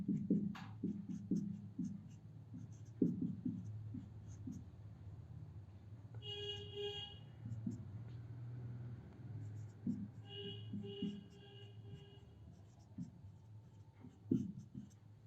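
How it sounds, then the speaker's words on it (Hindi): A pen scratching out equations on a board in a lecture setting, short intermittent strokes and taps spread through the stretch, fairly faint, with quiet room noise and no speech over it. "तो एक एक करके हम लोग जो इक्वेशन है वो लिख लेते हैं"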